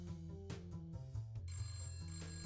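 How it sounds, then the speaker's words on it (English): A phone rings with a bright, trilling electronic tone over layered game music and effects, moderately loud and continuous, in the game Problem Sleuth. "You hear your phone ringing from the other room."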